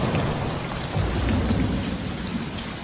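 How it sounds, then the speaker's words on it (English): Heavy rain during a thunderstorm in a film scene, a dense and steady roar of downpour with low rumbling underneath, loud and continuous throughout. "No, another storm comes in."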